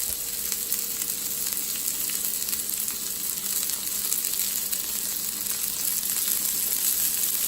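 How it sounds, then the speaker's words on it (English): Onions frying on a griddle, a steady, dense sizzle that holds evenly close by throughout, with no voices. "Get these onions on here. Cook them so they're translucent."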